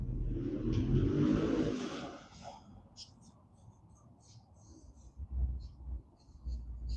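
A car swells past with a broad whooshing rumble that fades away, followed by quieter ambient noise and faint murmuring voices.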